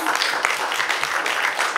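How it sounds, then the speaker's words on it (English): An audience at a Fujifilm press launch gives James Reid a round of applause, a soft, continuous wash of many hands clapping that stays even and moderately distant throughout. "A big warm round of applause, James."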